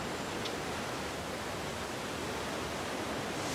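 Rushing water from a high, fast-flowing river, a dense continuous roar of churning water with no let-up, steady and fairly loud across the whole stretch.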